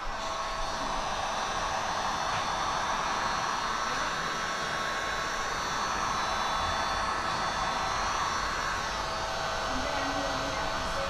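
A heat gun blows steadily on matte paint protection film at the edge of a Tesla, a continuous airy hiss that holds level throughout with no pauses.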